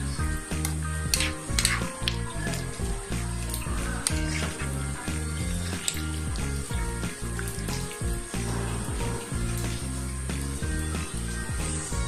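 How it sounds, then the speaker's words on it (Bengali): Bottle gourd with prawns cooking in a pan over raised heat, a steady close sizzle and bubbling with recurring soft clinks and scrapes of utensils against the pan. "এবার আমি চুলার আঁচটা বাড়িয়ে লাউটাকে রান্না করে নিচ্ছি।"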